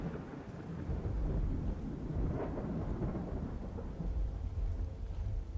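Rainy weather in the video game Skyrim, with steady rain hissing and a low rolling rumble of thunder swelling beneath it, continuous and fairly loud without any speech.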